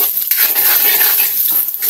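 Chopped garlic sizzles steadily in a pan of leftover longganisa fat, a bright continuous frying hiss with faint scraping, close up and alone.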